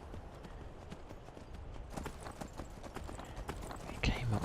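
Horse hooves clip-clop steadily in Skyrim, a rapid run of soft hoofbeats on the ground under faint talk and ambient game sound, with a louder thump near the end.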